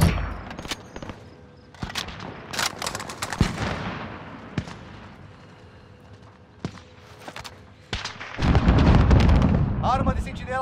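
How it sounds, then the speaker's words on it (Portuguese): An allied sentry gun in Call of Duty fires sharp bursts and single cracks amid explosions and battlefield noise, loud and irregular with brief quiet stretches, and a voice speaks near the end. "Arma de sentinela aliada online."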